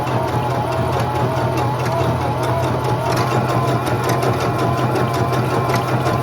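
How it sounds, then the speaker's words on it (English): A sewing machine runs a zigzag stitch along the outer edge of fabric, a loud, steady, close mechanical whirring hum that continues without a break. "I'm gonna do my zigzag stitch right along this outer edge here"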